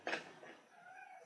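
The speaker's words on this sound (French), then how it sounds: "Je suis désolée si vous entendez mon chat" A pet cat gives one short meow, close and fairly faint, rising then trailing off in a quiet room.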